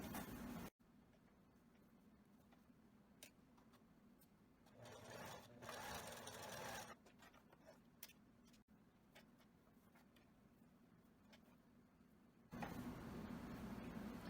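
A sewing machine stitches straight vertical seams on wide elastic in short runs of quiet, rapid mechanical whirring, separated by brief pauses.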